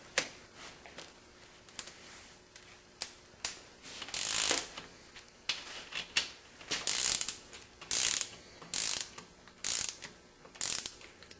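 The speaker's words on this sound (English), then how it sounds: "With the ARP studs, we torque them to 95 pounds with the moly lube." Torque wrench ratcheting as ARP main bearing studs with moly lube are tightened to 95 pounds on a Flathead Ford engine block, giving repeated sharp clicking bursts in uneven groups, close and moderately loud, with no talking.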